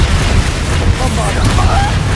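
A Confringo fire spell explodes in Hogwarts Legacy, a brief booming blast with a rumbling tail, loud and close, with a voice over it.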